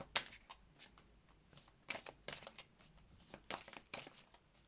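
Long oracle cards being shuffled by hand, quiet close riffles and papery slaps in uneven bursts.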